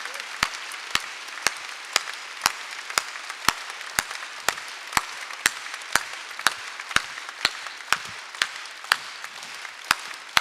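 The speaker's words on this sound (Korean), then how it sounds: "깨달았으면 박수 좀 치라고." A church congregation claps in a steady, evenly spaced rhythm, sharp distinct claps repeating roughly twice a second, moderately loud in a large room.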